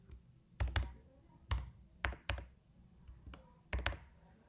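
Quiet computer keyboard typing: a handful of sharp clicks and short bursts of keystrokes spaced irregularly over a few seconds, with faint room hush between them and no talking.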